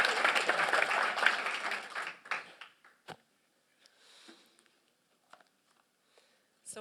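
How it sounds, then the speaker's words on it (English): Audience at an academic conference on the organization of innovation applauds for about two seconds, then the clapping fades into a quiet hall with a few scattered knocks and shuffles. "Big applause for Mark."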